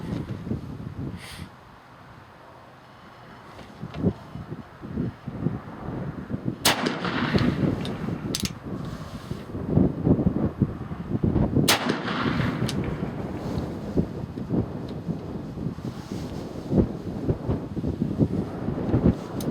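A Ruger Old Army .45 revolver loaded with lead bullets fires outdoors at dusk, with several sharp loud reports spaced seconds apart and wind rumble over the microphone in between.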